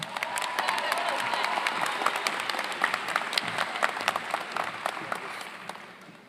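A commencement audience at a 2025 Twin Valley graduation claps in sustained, dense applause that gradually thins and fades toward the end.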